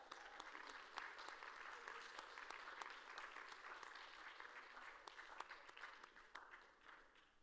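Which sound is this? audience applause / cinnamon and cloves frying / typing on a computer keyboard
audience applause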